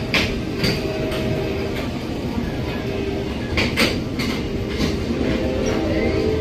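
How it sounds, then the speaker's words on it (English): An Amtrak passenger train, number 88 from Roanoke, rolls past nearby in Orange, Virginia, its wheels clacking rhythmically over rail joints amid a loud, steady rumble. "We have an Amtrak train coming, 88 leading from Roanoke."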